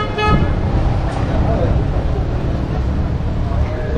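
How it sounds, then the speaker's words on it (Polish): Car horns toot repeatedly amid dense street traffic in Amman, Jordan, with a steady roar of passing vehicles and engines close by; short honks stand out early over the continuous road noise. "Trąbią i trąbią."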